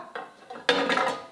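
Instant Pot lid is lifted off after the pressure releases, giving a short metallic clatter and scrape followed by a brighter clank of the lid coming free, close and fairly quiet.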